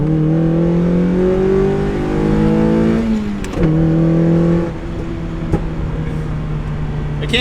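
A bolt-on modified Mazda Miata NB roars loud and close on track, its engine note climbing steadily through the revs, dipping briefly at a gear change, then pulling hard again.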